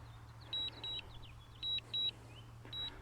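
A Mavic Air 2 drone remote controller beeps in short, evenly spaced high-pitched tones during return to home, about five beeps in three seconds, with a steady low hum underneath and no talking.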